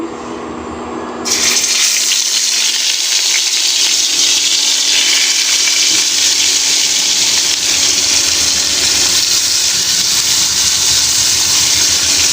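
After a brief quiet moment, koi fish hits hot oil and a loud, hissing sizzle bursts out, then continues steadily without a break.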